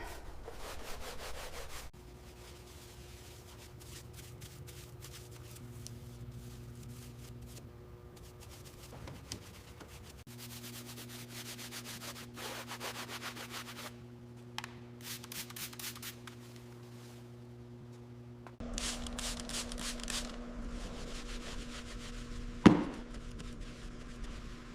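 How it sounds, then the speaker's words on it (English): A small hand scraper works packed mud off a Porsche 992 GT3 RS, making repeated rasping scrapes over a steady background hum, with a sharp knock near the end. "Here you go, let's get all this mud off."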